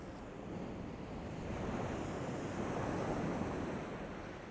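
Waves wash on the beach at Withernsea on the UK east coast, a steady surf roar with wind buffeting the microphone, swelling slightly midway, with no voices.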